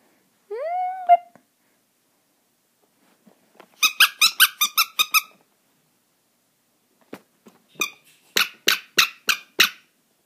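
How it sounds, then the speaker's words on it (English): A dog's squeaky toy squeaks in a quiet room: one long rising squeal, then two bursts of quick, sharp, high squeaks in rapid series, fairly close and clear. "Man, this thing's so hard to get it to squeak."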